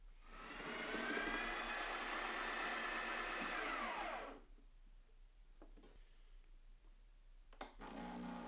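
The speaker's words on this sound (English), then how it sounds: "So let's brew 1 espresso." A Breville espresso machine with a modified pressure valve brews a shot, its pump buzzing loudly and steadily for about four seconds before cutting off, leaving faint clicks and small knocks in the quiet afterward.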